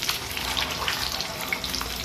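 Six eggs frying in oil in a pan until they brown, giving a continuous close, even sizzle with small crackles and no speech.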